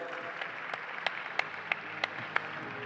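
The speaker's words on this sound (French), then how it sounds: "Vous pouvez l'applaudir." A few people in a conference audience clap for a minister being invited to the stage, a sparse, regular beat of individual claps over a murmuring room, fairly faint and distant.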